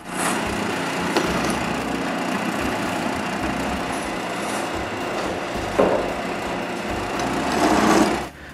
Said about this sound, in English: Then I can drill the screw holes.